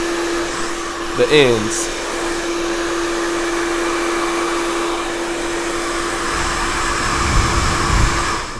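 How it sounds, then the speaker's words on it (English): A blow dryer runs in a steady, close whir while hair is styled with a B.LEE Gold styling brush, with a brief spoken phrase near the start. "without the blow dryer going"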